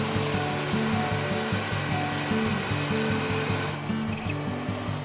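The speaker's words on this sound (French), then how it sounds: "Avec cette meule, il réalise les décors somptueux qui donnent tout leur éclat aux objets" A glass-engraving wheel cuts decorative patterns into blown crystal tableware in a Champagne workshop, giving a steady, loud mechanical whir with a rhythmic rattling pulse throughout and no talk.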